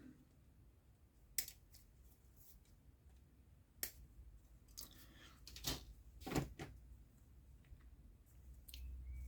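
Snips and clicks of a cheap Aldi Airfix plastic kit part, a gun barrel, being cut from its sprue, a handful of sharp isolated snaps spaced irregularly against quiet room tone.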